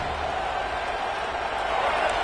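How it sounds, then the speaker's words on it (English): A packed football stadium crowd at a Penn State game, a steady, loud, unbroken roar filling the whole moment. "listen to this crowd noise. This stadium is vibrating"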